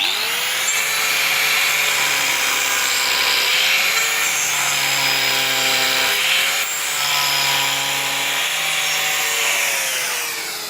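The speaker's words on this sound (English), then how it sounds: "Sanding, but not with the woodcarver." Continuous abrasive whirring of a power sander on wood, a steady loud drone with a tone that dips and rises slightly at intervals, no talking; sanding laminated wood in the game Woodcarver Gold.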